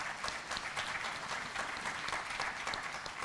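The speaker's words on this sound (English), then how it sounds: "Ladies and gentlemen, a warm round of applause for all our panelists." Audience applause for a panel of speakers at a policy conclave, a dense, steady clapping from a hall crowd that holds at full loudness for the whole stretch, with no voices.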